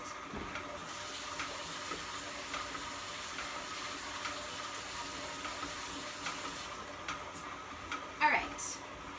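Tap water runs steadily as hands are washed at a kitchen sink during a challah bread-baking class, a continuous broadband hiss lasting nearly the whole stretch before it cuts off, with a brief clatter near the end.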